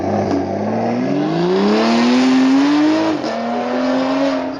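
A four-cylinder supercar engine revs hard and close, its pitch climbing steadily, dipping briefly, then rising and holding high, loud with no voices over it.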